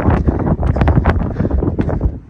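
Strong outdoor wind buffets a microphone in rough, continuous low rumbling gusts, loud and close throughout with no voices.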